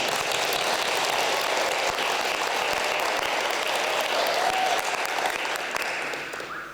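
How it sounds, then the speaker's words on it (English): Enthusiastic crowd applause at a school literacy celebration event, loud and dense clapping filling the room and holding steady before tapering off near the end. "Let's give him another round of applause."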